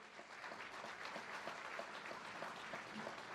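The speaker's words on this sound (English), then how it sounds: "Let's give him a big round of applause." A Staten Island audience at a political gathering applauds an economic development leader, a quiet, distant-sounding patter of many hands clapping evenly for a few seconds.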